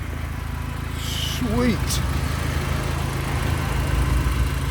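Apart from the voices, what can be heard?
VW 1.8T 20V engine idling in a first-gen Hilux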